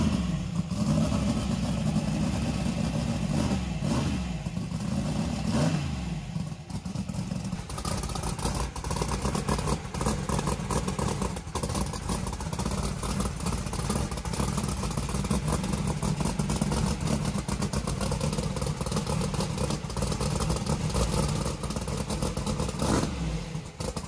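A drag race car runs nearby at a Street Outlaws No Prep Kings event, its engine roaring loudly and unevenly through rough, cold revs and sustained clattering rumble, with no talk.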